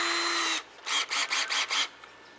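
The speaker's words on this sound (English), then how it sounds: "Hook it up to the drill." A power drill whines for a moment, stops, then fires in four short, rhythmic bursts close up.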